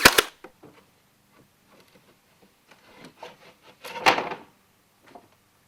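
A nail gun tacks cedar boards on a rustic furniture build, giving a few sharp, close snaps separated by scattered woody knocks and handling rustle.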